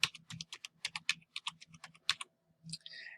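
A student number is typed on a computer keyboard in a quick run of crisp, close keystrokes, roughly a dozen clicks in steady rhythm, ending with a short rustle.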